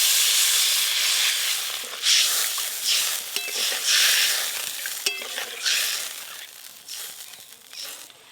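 Water poured into a hot pan of oil with boiled raw tamarind and turmeric powder for a prawn sour curry, a loud sustained sizzle and hiss with stirring scrapes, rising and falling over several seconds.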